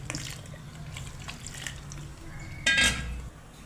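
Metal cooking pots handled while water is poured between them during rice papad batter preparation in a home kitchen; a quiet, soft trickle and light handling noise, then one brief, sharper metallic clatter near the end.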